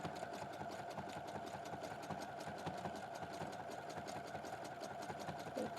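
A sewing machine hemming a skirt runs in a fast, even mechanical chatter, steady and continuous at moderate distance, fairly quiet with no pauses.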